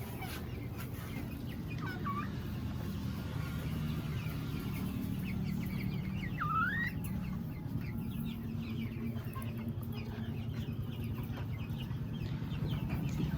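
Sonali chickens cluck and call intermittently over a constant background hum on a small home poultry farm, with a few higher chirping notes; no one speaks.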